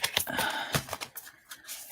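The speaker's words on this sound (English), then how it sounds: "shuffle this again, because two cards came out" Tarot cards are shuffled by hand at close range, giving a quick series of soft papery riffles and flicks that thin out into sparser taps toward the end.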